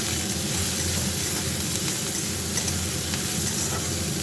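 Chopped garlic frying in hot oil in a home kitchen makes a continuous close sizzle with faint stirring, with no voices.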